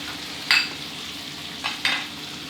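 Fried shrimp stir-fried over high heat with chopped garlic in a hot wok, a steady sizzle broken by three sharp scraping tosses of the spatula, close and with no talking.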